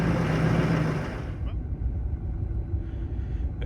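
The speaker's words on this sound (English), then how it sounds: "Snow is loud to drive on." A truck drives over snow, producing a loud, steady low rumble with crunching texture that eases slightly partway through, heard alone without talk.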